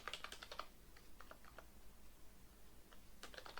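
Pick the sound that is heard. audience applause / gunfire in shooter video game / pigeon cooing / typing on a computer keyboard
typing on a computer keyboard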